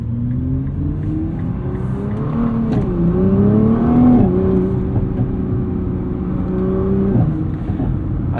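A 2023 Nissan GT-R with a 565 hp engine in its most aggressive drivetrain mode pulls hard from inside the cabin, its steady loud drone climbing in pitch with audible gear changes along the way.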